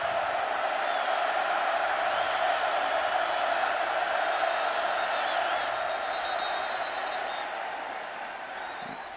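A stadium crowd at a college football game, Baylor at Oklahoma in 2009, roars in a sustained loud wash of cheering that slowly eases toward the end.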